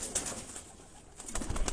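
Pigeons on a rooftop loft in Jalalpur Bhattian, Pakistan, give short soft coos over a low outdoor hum, with brief bright chirps near the start and end and no talk.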